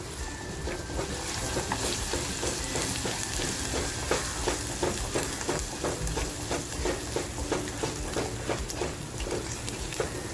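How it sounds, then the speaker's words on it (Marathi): A ground paste of coconut, ginger, garlic and coriander fries in hot oil for a Ravas fish masala, with a dense, continuous, close sizzle and crackle under light stirring. "आपल्याला मसाला आहे ना असा खमंग फ्राय करून घ्यायचा आहे आपला मसाला फ्राय होतोय"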